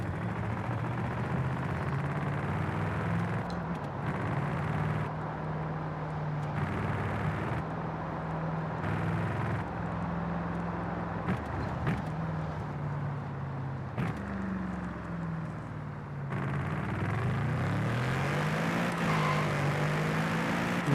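A high-revving naturally aspirated 6.3-litre V8 in Forza Horizon 5 drones loudly and continuously, climbing and dropping in pitch through gear shifts with repeated rev swells, no voices over it.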